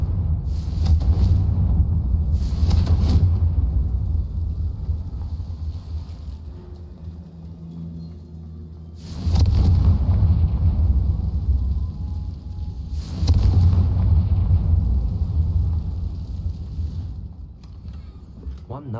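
Confringo fire spell explosions in Hogwarts Legacy: several deep, rumbling blasts in pairs, loud and boomy with long decays, between stretches of lower rumble, with occasional talk.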